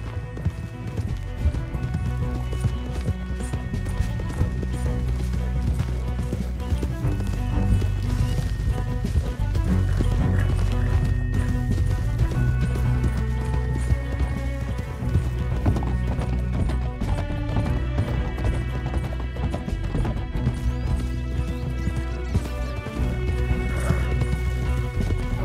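Rhythmic hoofbeats of galloping horses under a dense, loud musical score, with an occasional whinny; the clatter runs steadily throughout, in the video game Red Dead Redemption 2.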